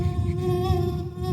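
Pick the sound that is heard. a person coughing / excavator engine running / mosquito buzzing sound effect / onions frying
mosquito buzzing sound effect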